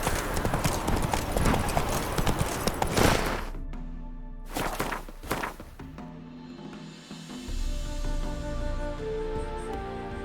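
The horse Roach gallops in The Witcher 3, its hooves clopping loudly and rapidly up close, then dropping off into quieter thumps and a lingering ambient tone.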